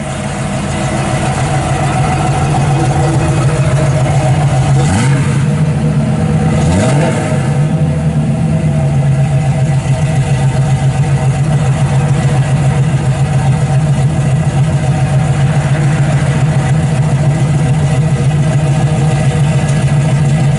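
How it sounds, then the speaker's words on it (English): A 1968 Chevrolet Camaro SS with a 350 V8 and Flowmaster exhaust with a transverse muffler idles steadily and loudly nearby, a deep constant rumble with one brief blip of revs partway through. "It's got the Flowmaster exhaust with a transverse muffler out the back."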